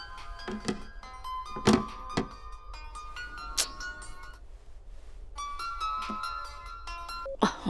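A phone rings indoors in a melodic ringtone, one bright tonal phrase after another with a pause in the middle, broken by a few sharp knocks and thunks; a son is calling his mother to ask for tea.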